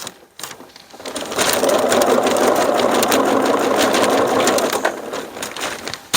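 Sewing machine stitching back and forth to lock down threads on the back end of a sewn piece, a steady close whirring run of about five seconds after a brief quiet start.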